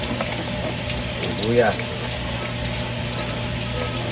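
Onions hiss and sizzle steadily in hot oil as they fry for a mung bean dish with garlic and pork. The frying is close and constant, with a brief bubbling swell partway through.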